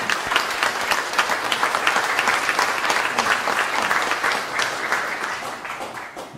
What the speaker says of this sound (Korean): 여러분들 큰 박수로 맞아주시기 바랍니다.